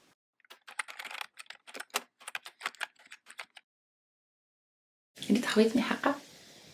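Quick bursts of keystrokes clatter on a computer keyboard nearby, irregular taps over about three seconds, then a pause before a short, louder rustling clatter.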